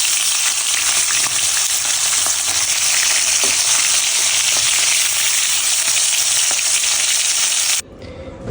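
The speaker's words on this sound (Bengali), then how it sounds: "এরপর এক এক করে মাছ ছেড়ে ভালো করে ভেজে নিতে হবে।" Prawns frying in hot mustard oil make a loud, close, continuous sizzle with scattered crackles, then cut off abruptly near the end, with no talking.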